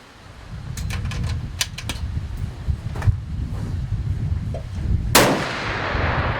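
Rifle shot at an outdoor shooting competition in Kentucky, a single sharp loud crack late in the clip over steady wind and background noise, preceded by a few faint ticks and clicks.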